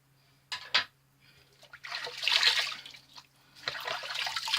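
Water runs from a tap while someone rinses off after a wet shave, with a few short splashes followed by longer spells of close, steady running and splashing water.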